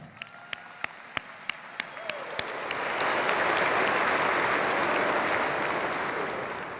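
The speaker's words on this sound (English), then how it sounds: "Let's give them a big round of applause." Graduates at a Central Senior High School graduation ceremony draw applause that starts as a few scattered claps, then swells into sustained clapping from a large audience, staying steady and slowly tapering off.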